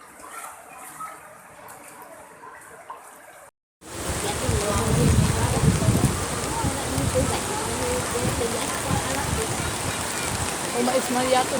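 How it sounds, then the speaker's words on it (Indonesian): Heavy rain pours down in a flooded area along the Lematang river in Lahat, a loud, close, steady hiss that rushes in after a quieter opening and a brief cut, with voices audible underneath. "Hujan."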